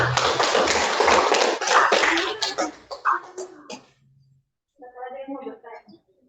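Classmates clap for a group presentation during a physics lesson, a loud burst of hands lasting about three seconds that tapers into a few scattered claps, followed by silence and then a voice speaking.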